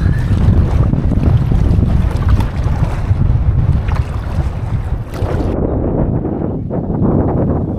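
Strong wind buffets the microphone in loud, rumbling gusts over open water, with waves splashing underneath; the roar eases slightly toward the end.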